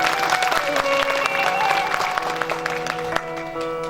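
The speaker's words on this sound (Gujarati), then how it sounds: "બાપુને એક જોરદાર તાળીઓથી વધાવો" Applause rises from the gathering at a Bhagavat katha, mixed with music and crowd noise, loud and sustained for a few seconds.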